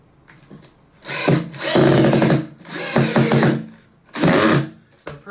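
A power drill drives screws into the wooden panels of a subwoofer box, with three loud, close whirring bursts of about a second each, separated by short pauses and ending on a brief final buzz.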